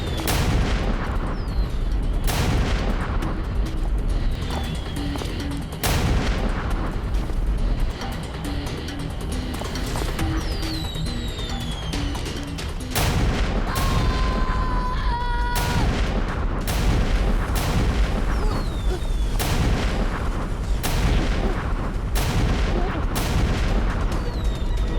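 Cartoon firecrackers burst in a rapid irregular string of sharp explosive cracks, loud and close, repeating through the whole stretch over a busy background.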